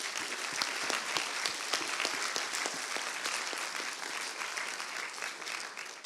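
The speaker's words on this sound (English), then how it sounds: "So let's give them a round of applause." A hackathon closing-ceremony crowd claps for the organisers, with distinct individual claps standing out at first, then blending into a softer, thinning wash as it fades.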